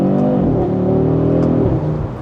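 A 2025 Audi RS3 pulls hard on a test drive, its engine note loud, close and rising steadily in pitch before easing off briefly near the end.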